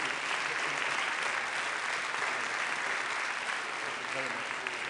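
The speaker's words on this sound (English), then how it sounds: "Please join me in applauding this wonderful panel." Sustained applause from a summit audience, thanking a panel at the One Health Summit in Lyon; dense, steady clapping from many hands fills the whole stretch at an even level, with faint voices underneath.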